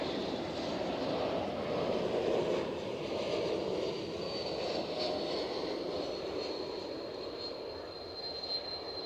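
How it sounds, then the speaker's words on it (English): A KLM Embraer E195 jet arrives at Edinburgh airport, a steady distant engine roar with a faint high whine, moderately quiet and continuous. "KLM inbound from Amsterdam. Looks like an E195"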